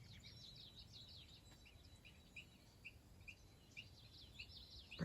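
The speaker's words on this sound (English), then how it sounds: "Birds are happy." Birds sing in a garden on a morning, with repeated short chirps and tweets at a moderate distance over a faint, soft background hiss, steady and unhurried.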